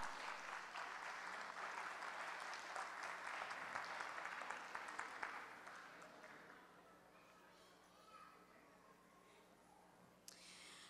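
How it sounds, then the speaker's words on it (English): Crowd applause at a prize-giving ceremony for competition winners, a broad wash of clapping for several seconds that thins out and fades to a quiet room with faint stray sounds. "please give her a big round of applause"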